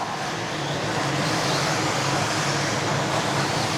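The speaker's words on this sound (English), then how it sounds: "So here's your race leader coming now on the straightaway" Race cars on a track straightaway, a loud continuous roar of engines passing close by with no break and no voices.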